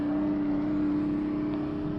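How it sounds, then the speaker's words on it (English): A ZL1 race car, pushed a little out of shape through a twisty section of a track session, gives a steady, loud engine drone with a strong sustained tone and no pauses. "ZL1, getting just a little bit out of shape through the twisties there, and across the line to finish up his second run."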